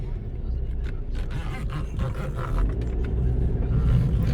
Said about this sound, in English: It's changing gears.